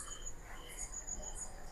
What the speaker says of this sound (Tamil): இருட்டா இருந்தா கத்துங்க. சுடுகாட்டுல இருக்கிற பூச்சி.